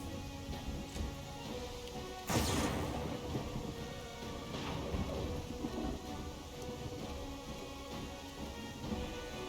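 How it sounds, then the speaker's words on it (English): Steady rain pours in the video game Pathfinder: Kingmaker, and a sharp thunderclap cracks near the start before low rumbles roll on beneath the constant hiss of rainfall. "if this goddamn place would just cool it with the rain"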